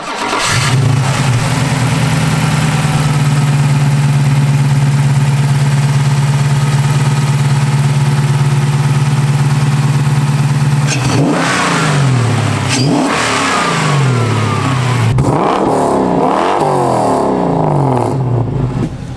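A classic restomod car engine starts, settles into a steady loud idle, then revs repeatedly in several sharp bursts as it pulls away for a drive, up close with no talking.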